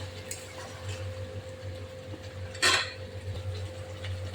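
Spice paste with pointed gourd stirred in a pan, soft scraping and occasional clinks of a utensil against metal, with one sharper knock near the middle over a low steady hum.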